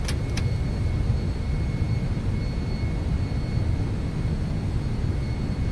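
MD-11 jet engines at climb power in X-Plane 11 on a FedEx heavy cargo climb-out from Memphis, a steady loud broadband roar with a faint high whine, continuous and unbroken, with no talk.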